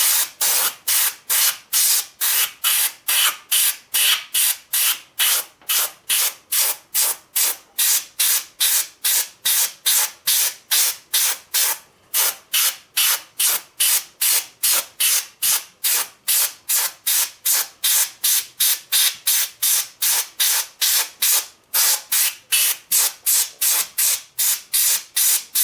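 An airbrush sprays paint onto a model railroad car, a covered hopper, in short rhythmic hissing bursts that repeat dozens of times at a steady pace, close and clear with no voices.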